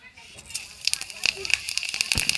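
Leftover oil from frying paneer, topped up with a little more oil in the pan, crackles and sizzles close by in a dense stream of sharp pops that grow busier toward the end.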